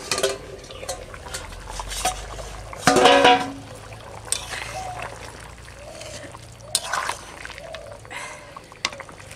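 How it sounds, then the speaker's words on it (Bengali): Mutton curry with cauliflower in a pot, the lid lifted off with a metallic clank and a spoon stirring and scraping through the thick gravy in short bursts, with scattered utensil knocks over quiet kitchen background. "ফুলকপি দেওয়ার পরে একটু ঢাকে দিয়েছিলাম যেন ডানটিটা সিদ্ধ হয় দেখি এখন কি হয়েছে ঢাকাটা খুলে"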